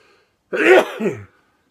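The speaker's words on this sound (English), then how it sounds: "Hang on, I'm going to sneeze." A single abrupt sneeze bursts out close by, a sharp explosive breath lasting under a second, then quiet.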